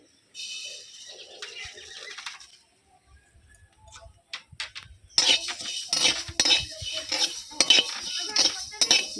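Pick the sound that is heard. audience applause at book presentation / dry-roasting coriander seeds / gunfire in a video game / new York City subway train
dry-roasting coriander seeds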